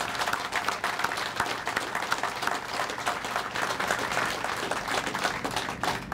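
Sustained applause from an audience at the opening of the Mast General Store in Winston-Salem, a dense, steady wash of many hands clapping at even loudness for the whole stretch, with no talk over it.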